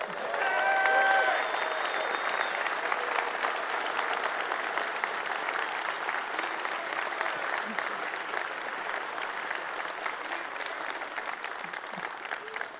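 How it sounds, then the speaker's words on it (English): Large crowd at the EVE Fanfest 2023 closing ceremony cheering and applauding loudly throughout, with a swell of whistles and shouts at the start, then steady sustained clapping. "if we all cheer once more and we say, Eve,"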